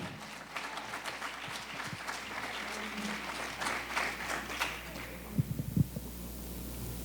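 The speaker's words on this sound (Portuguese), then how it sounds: "Olha, aplaudir o Senhor, meu querido" A church congregation applauds the Lord during a sermon, a moderate wash of clapping with a low hum underneath and a few sharper, closer claps near the end.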